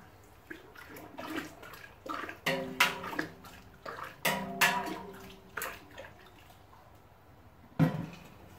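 Water is stirred in a home-brewing kettle, a hot liquor tank of the Robobrew, Grainfather or Brewzilla type, with irregular sloshing and swirling splashes rising and falling, close and fairly quiet.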